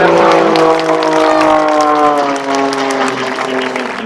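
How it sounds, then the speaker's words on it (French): Crowd applause at the 2025 Verdun air show, a steady loud wash of clapping with the drawn-out, falling drone of an aircraft passing overhead mixed in. "D'applaudir bien fort."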